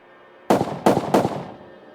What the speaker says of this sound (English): Suddenly I heard gunshots right outside the bathroom door,